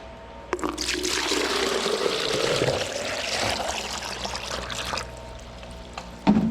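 Water poured out for a goat to drink, a steady rushing splash and trickle lasting several seconds before tapering off, close and moderately loud.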